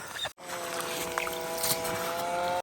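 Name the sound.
petrol motor ice auger drilling lake ice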